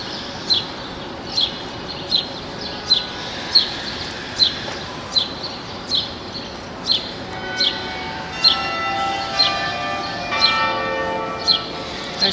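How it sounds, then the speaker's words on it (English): Church bells ring near a Boston burial ground with a steady, regular toll of about fifteen strikes, loud and near, while birds chirp in the background. "There's the bells again."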